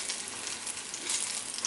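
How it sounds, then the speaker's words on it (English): Plantains fry in a pan with a steady, close hiss and crackle of hot oil, bright and continuous for a brief moment, no voices present. "Frying some plantains"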